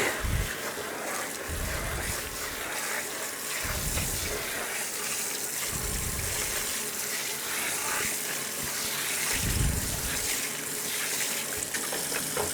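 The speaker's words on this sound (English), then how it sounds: "Rinse the sink." Tap water runs steadily into a sink, a continuous splashing rush with a few low thumps as it is used for rinsing.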